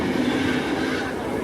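A Sapthagiri Express train rolls along the rails between Tirupati and Chennai, a steady, loud rumble of wheels and carriage noise with a faint squealing tone throughout.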